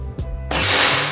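A single sharp crack from a Marauder or Grand Kinto air rifle fires once, loud and close, with a brief bright burst that quickly fades.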